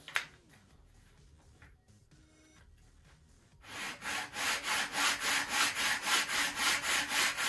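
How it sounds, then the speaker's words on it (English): Sandpaper rubbed over a wooden flap for a .60-size Top Flite P-40E Warhawk model airplane, a quiet pause followed by a run of about a dozen even, rhythmic back-and-forth scratching strokes, close up. "I think I might just sand just a little bit more."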